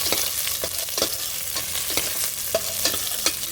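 Garlic fries in a pan for Andhra-style pappu sambar, a steady close sizzle broken by repeated sharp scraping strokes of a spoon stirring at a fairly regular pace.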